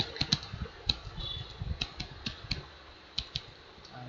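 Irregular clicking of keys on a computer keyboard, close and moderately quiet, with uneven bursts and short pauses between strokes.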